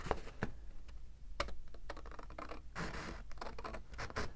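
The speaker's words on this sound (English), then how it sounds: "I'm going to trim off a little bit more" Paper sheet being trimmed for a folio, a series of short crisp cutting scratches and snips at close range, some in quick succession, with no talking.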